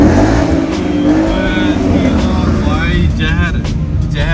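A loud Ford Mustang GT sports car engine rumbles and revs close by with a deep, steady roar, while people talk excitedly over it throughout.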